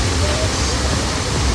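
Waterfall in Lombok, Indonesia, pours with a loud, steady roaring rush of water spread across a wide area, a close, even broadband wash with no breaks.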